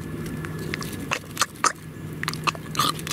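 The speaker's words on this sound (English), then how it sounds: "The pig is chewing so loudly." A pig chewing salad up close on a farm, with wet crunching bites and smacking in irregular bursts over faint background hum.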